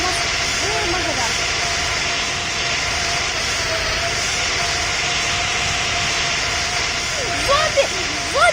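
An airplane's engines roar steadily during takeoff, a loud, sustained whine and hiss from the cabin, with brief faint voices near the end.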